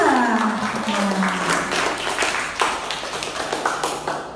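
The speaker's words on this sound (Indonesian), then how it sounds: "Tepuk tangan untuk kelompok 2" Classroom applause for a student group after their presentation, a dense burst of clapping hands that starts loud over a trailing voice and gradually thins out.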